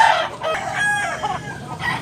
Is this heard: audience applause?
no